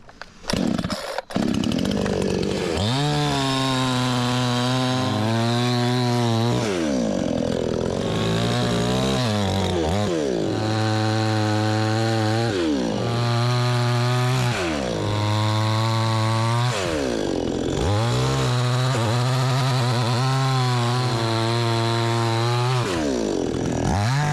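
A loud chainsaw revving repeatedly, its engine pitch dropping under load as it cuts through wood, then racing again between cuts.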